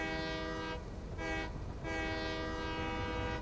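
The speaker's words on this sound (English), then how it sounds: "You have to honk the horn." A video game train horn blares in two long, loud honks with a brief gap between them, rich and steady over a low rumble.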